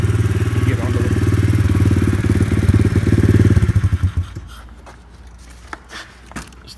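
A warmed-up pit bike engine idles with a steady, close putter, then cuts off at about four seconds, leaving a few faint clinks and handling noises.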